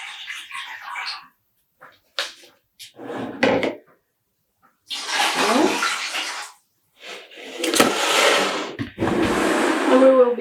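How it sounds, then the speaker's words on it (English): Water is poured into a dye pot in bursts while dyeing yarn at home, several separate gushing splashes with short silent gaps between them, close and fairly loud. "I'm also adding in 3 liters of water."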